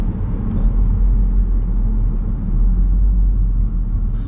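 Volkswagen Golf R with its 2-litre four-cylinder engine running, a deep low rumble that stays fairly steady with slight swells in level, no voices over it.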